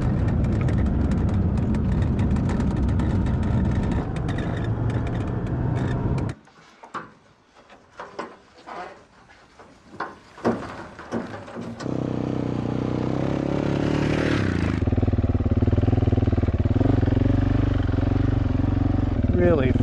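A motorcycle riding down off a mountain: a steady engine drone and road rumble, then a stretch of gusty wind buffeting and clatter, before the loud engine hum returns at cruising speed.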